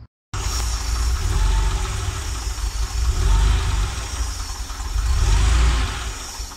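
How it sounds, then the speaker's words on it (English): Air-cooled Porsche 911 engine with Bosch CIS K-Jetronic fuel injection idling: a steady, low, rumbling idle heard up close, swelling and easing gently in a few slow waves after a brief silent start. "It should just be a nice smooth idle."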